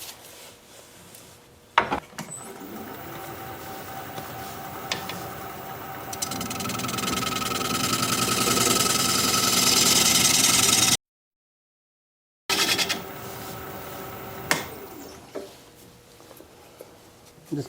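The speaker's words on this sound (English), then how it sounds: "I'm just going to use this diamond point tool to create flat sides on the tenon." A wood lathe turns an alder bowl's tenon while a diamond point tool cuts flat sides, giving a steady whirring scrape that builds in intensity. It stops abruptly, then resumes with a few knocks.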